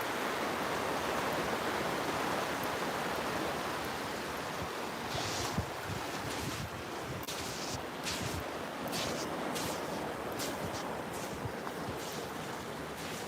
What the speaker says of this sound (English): here comes the waves from the big Coast Guard ship